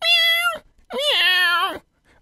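A human voice imitates a cat meowing, giving two drawn-out, tonal meows in a row, loud and close with no other sound around them.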